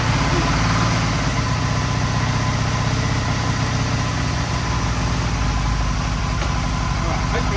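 A 2001 Aprilia RST 1000 Futura motorcycle engine idles steadily up close, a loud continuous rumbling throb with no obvious revving.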